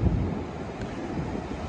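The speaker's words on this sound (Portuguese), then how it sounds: "Conforme se ouve o som das ondas" Indian Ocean waves roll onto a beach at Pangandaran as a steady, close wash of surf with heavy wind rumble, no voices.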